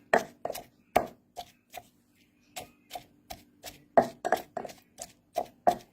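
A Thai fish salad with snakehead fish is gently pounded in a mortar: sparse, irregular wooden knocks, some single and some in quick clusters, close and crisp with quiet gaps and no talking.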